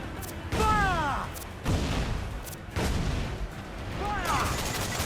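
Ship cannons in Assassin's Creed IV: Black Flag boom in a series of heavy blasts, about three or four shots spaced roughly a second apart, mixed with shouted crew voices over a noisy sea-battle background.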